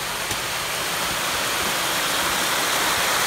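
A creek in Alaska runs steadily, a constant close rushing wash of flowing water with no pauses, heard alone without any voices.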